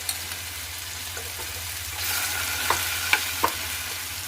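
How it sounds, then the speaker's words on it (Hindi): Taro (arbi) frying in hot mustard oil gives a steady close sizzle that swells midway, with a few sharp clinks and scrapes from a spatula. "अब हम इसमें अरबी को धीरे धीरे डाल करके इसे फ्राई कर लेंगे।"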